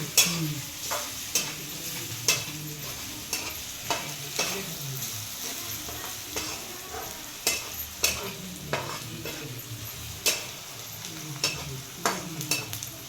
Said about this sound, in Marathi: दोन चमचे टाकून हळद टाकून घ्यायची छान आता परतायच आहे